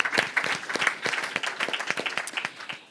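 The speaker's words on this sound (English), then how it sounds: "So let's give them a round of applause." Audience applause at a business school sustainability forum, a burst of clapping from a seated crowd that stays steady for a few seconds, with individual claps audible up close.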